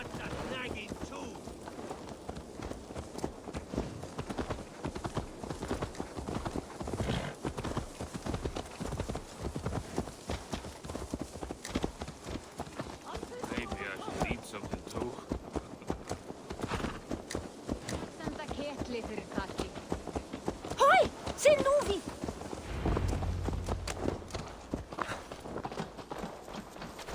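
Horse hooves clip-clop steadily in Assassin's Creed Valhalla, a continuous walking rhythm of hoofbeats heard beneath game dialogue with voices talking throughout.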